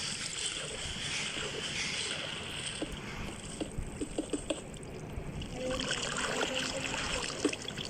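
Water flowing through a cave in a Minecraft-style block-building game, a steady wash of trickling, rushing noise that stays even and fairly close throughout, with faint soft clicks and game sounds scattered underneath.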